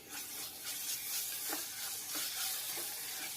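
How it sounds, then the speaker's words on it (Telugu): Green chillies and masala paste fry in a pan for a village-style Konaseema mutton and mango curry, giving a steady close sizzle with soft scraping stirs at intervals and no talk. "ఈ మసాలా ముద్ద వేసేసి ఐదారు నిమిషాలు అలా వేయించుకోండి"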